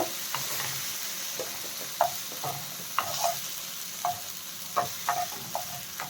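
Tamarind leaf shoots frying in oil in a kadai, a soft steady sizzle broken by a series of light, irregular clinks and scrapes from a spatula stirring the leaves against the pan.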